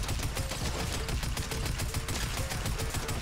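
Rapid automatic fire from a tactical assault rifle in Fortnite, a steady stream of closely spaced shots rattling without pause throughout, loud and close with no talk over it.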